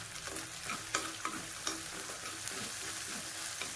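Ginger garlic paste frying in a pan for chicken fry, with a steady close sizzle and several sharp stirring scrapes and clicks spaced through it, no talking.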